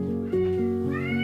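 A pet cat meows loudly as its soldier owner returns home, one long drawn-out wailing call sustained over about a second, close and dominant against a steady background.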